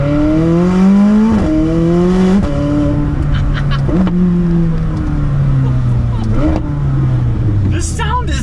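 A McLaren 600LT Spider engine in sport mode revs hard and rises in pitch through several gear changes, loud and close, with a rough throaty note throughout.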